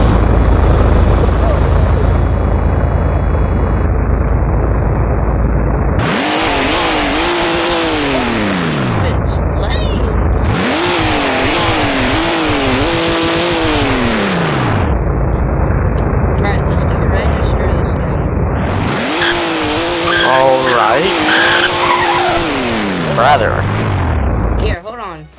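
A DeLorean in the Roblox video game cold-starts and drives, its synthetic engine rising and falling through three separate loud, sweeping rev runs with quieter gaps between them.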